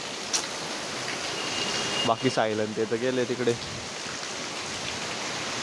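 Heavy rain falls as a steady, dense hiss throughout, with a person speaking briefly in the middle over the downpour.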